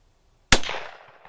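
A single sharp, loud Mauser K98 rifle shot cracks out close by after a stretch of quiet, followed by a long, fading echo tail; no talking.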